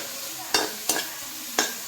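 Homemade chicken chilli with capsicum cooking in a pan: a steady low sizzle of frying broken by three sharp scraping stirs, close and fairly loud, with no talking.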